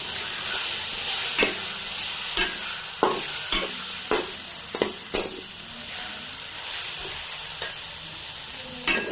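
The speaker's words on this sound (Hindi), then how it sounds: "हमने लहसुन अदरक को सौते करना है" Boneless chicken sautéing with garlic and ginger paste in a pan gives a steady sizzle, broken by repeated sharp scrapes and clinks of a spoon stirring, close and alone.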